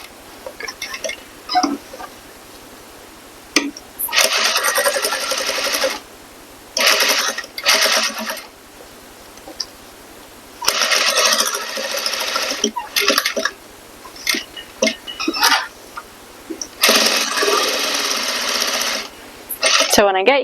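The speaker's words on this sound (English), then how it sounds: "I'm just going to backstitch and then start sewing down this way." A sewing machine stitches a modesty panel for a corset in loud, rapid runs of several seconds each, stopping and restarting for short backstitches, with a voice speaking in the pauses.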